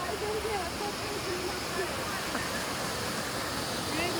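Steady, dense rushing of a roadside waterfall near Satara fills the scene, with faint voices now and then beneath the roar.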